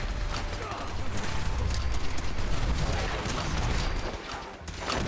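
Chaotic combat noise from Fallout 4, with mine explosions and gunfire blending into a dense, continuous rumble of bursts and mechanical clatter, steady and fairly loud throughout with no clear talk.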